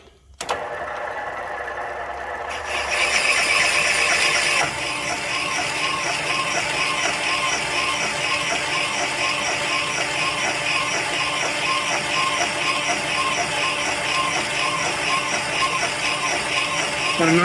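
A metal cutting tool machines a Ford cylinder head, producing a loud continuous mechanical whir and chatter that steps up in intensity after a few seconds and holds steady throughout.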